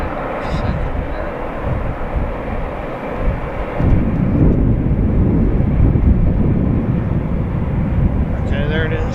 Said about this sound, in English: Watching for the A319 coming from Charlotte, American Airlines.